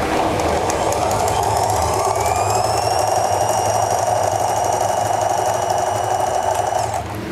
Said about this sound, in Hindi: आप अपनी सिलाई को स्टार्ट करें लेकिन शुरू में पक्का ना करें